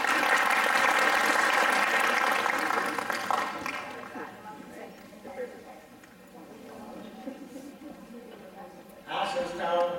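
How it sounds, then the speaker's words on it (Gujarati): Audience applause at a community nonprofit program, a dense burst of clapping that rings out strongly at first, then thins and fades to scattered claps before a brief renewed swell near the end. "તો એમના માટે એક વખત આપણે તાળીઓથી વધાવી દઈએ"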